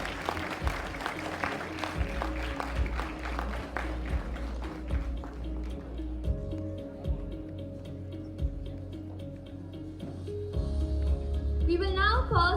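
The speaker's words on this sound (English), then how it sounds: "Let's cheer for the graduates of Section B with another big round of applause" Applause for graduating students at a graduation ceremony, a crowd clapping over a low hum with loud sharp claps early that thin out later, and voices briefly heard underneath.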